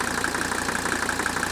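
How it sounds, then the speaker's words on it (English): A 1983 Mercedes diesel engine idles with a steady, rapid knocking rattle, loud and close, its even rhythmic clatter continuing without pause and with no voices. "You can hear that distinct rattle of the engine at idle"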